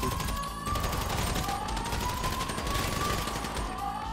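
Gunfire in the video game Grand Theft Auto V Online: a rapid, dense fusillade of shots runs continuously over a steady electronic tone, loud and close for the whole stretch.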